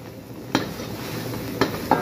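Garlic and onion sautéing over medium heat in a thin wok, a soft steady sizzle with three sharp scraping clinks of a spatula stirring against the metal.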